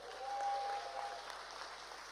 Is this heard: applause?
yes